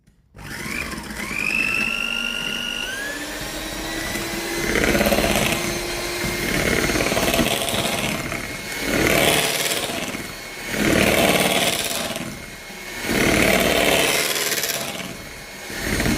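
An electric mixer whipping raspberry macaron batter, a loud close motor whine that rises and falls in repeated surges as the beaters work, with the pitch shifting at the start.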